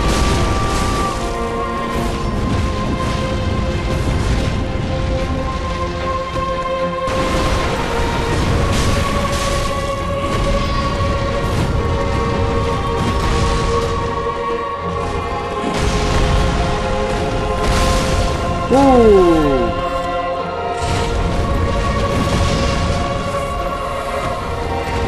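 Repeated heavy explosions boom through a Dark Souls 3 fight against the Abyss Watchers boss, deep bursts recurring every several seconds over a constant dense wash of combat noise and tonal game sounds.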